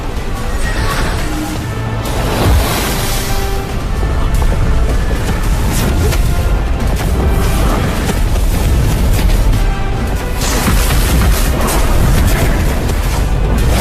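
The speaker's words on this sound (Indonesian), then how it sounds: "hanya dengan sekali ledakan Dewi Willow sukses menghancurkan beberapa tubuh 5 elemen" A big magical blast in an animated fantasy series sets off a dense, sustained rumble of booming explosions and crashing debris, loud and unbroken all the way through with no talking.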